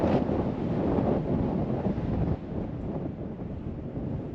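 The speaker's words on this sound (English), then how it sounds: "it is pretty windy today" Strong wind in the California desert buffets the microphone in a steady, loud roar that eases slightly partway through, with no voices.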